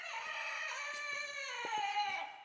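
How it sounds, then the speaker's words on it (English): A drawn-out, tonal crowing call from a chicken, loud and near, carrying across the whole moment with a few faint clicks beneath and no talking. "I believe it's a hen, Brooke."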